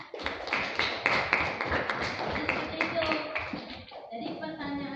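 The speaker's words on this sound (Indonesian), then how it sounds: "Aplaus untuk kelompok 2" A classroom group applauds for a presenting group, with a burst of mixed, moderately loud clapping that tapers off as a voice speaks over it.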